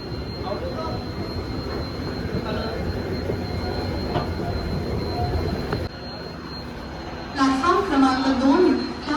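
A train rolls along the rails with a steady rumbling clatter and a thin whine, then voices start talking close by near the end.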